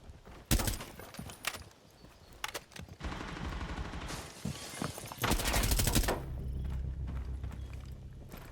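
Video game gunfire in an online shooter: sharp single shots and rapid automatic bursts crack out loud and close, separated by brief lulls and faint footsteps, with no talking.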